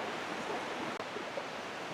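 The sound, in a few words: river water flowing on a jungle trail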